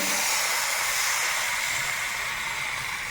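Spring roll batter poured into a hot, oiled pan gives off a steady, close hiss of sizzling that holds constant and fades slightly toward the end, with no voices.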